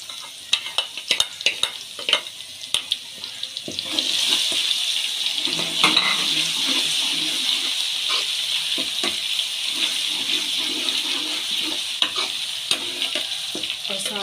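Garlic-ginger paste hits hot oil with browned onions in a pan, bursting into a loud, steady sizzle after a few seconds of stirring clicks and scrapes, frying continuously without any talk.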